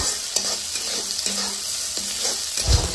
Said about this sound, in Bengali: এগুলো একটু নেড়ে চেড়ে ভেজে নেব যতক্ষণ না সুন্দর একটা ঘ্রাণ বের হয়